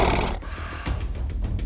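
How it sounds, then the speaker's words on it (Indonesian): Roar of the Megalodon Rex, a giant monster, a loud sustained growling bellow that rises again after a short dip, filling the whole stretch close and heavy. "Kamu bisa mendengar raungan sang Megalodon Rex di belakangmu."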